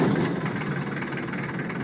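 Diesel engine of a Land Rover Defender 90 turning over and settling into a steady low rumbling idle, heard up close and alone for a couple of seconds.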